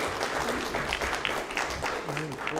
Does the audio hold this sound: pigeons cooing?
no